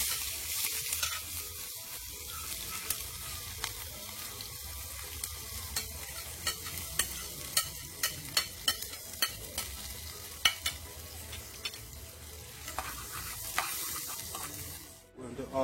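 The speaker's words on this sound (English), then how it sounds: "I'm just going to saute up some onion" Onion sautéing for a sweet and sour sauce for lobster crackles and sizzles in a pan, with frequent sharp spatula scrapes and taps over steady frying hiss, ending in a brief sudden cut.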